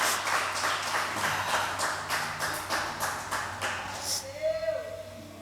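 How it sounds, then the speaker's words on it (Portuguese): Clapping fills a church as the congregation applauds a woman, a rhythmic run of hand claps that fades after about four seconds, with a voice speaking at the end. "Vocês podem dar uma salva de palmas por ela."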